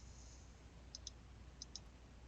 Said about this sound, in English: I'm just entering left mouse clicks for every vertex that I want to add